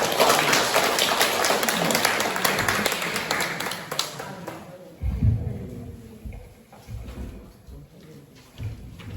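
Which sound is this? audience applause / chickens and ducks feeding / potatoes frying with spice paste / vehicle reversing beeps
audience applause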